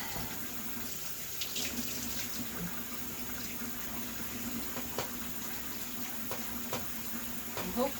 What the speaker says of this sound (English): I'm gonna wash these pants while I'm wearing them with some soap,